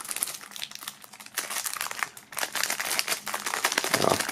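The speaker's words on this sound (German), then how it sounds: "Und dann geht auch diese Folie hier wunderbar ab." Plastic shrink-wrap foil peeling off a boxed music album, a steady close crinkling and crackling that runs throughout and grows louder near the end, with no talking.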